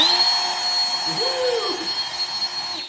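Battery-powered rechargeable leaf blower fan running steadily at close range, a constant whirring hum with a high-pitched motor whine and broadband airflow hiss, with faint talk mixed in.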